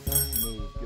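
A small bicycle bell rings with a bright metallic tone, struck about three times in under a second, close by.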